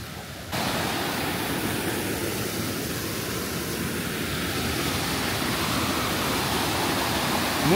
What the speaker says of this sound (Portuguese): É muito barulho da água.